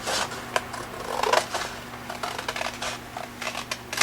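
Scissors snip through blue paper pieces along their folds while making a Fourth of July pop-up card, giving a series of close, crisp cuts with short pauses between them.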